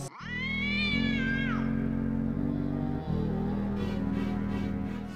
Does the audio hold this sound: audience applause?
no